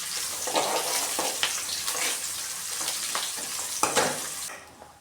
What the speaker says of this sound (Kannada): ಈರುಳ್ಳಿ ಬ್ರೌನ್ ಕಲರ್ ಆಗೋವರೆಗೂ ಚೆನ್ನಾಗಿ ಫ್ರೈ ಮಾಡ್ಕೊಳ್ತೀನಿ.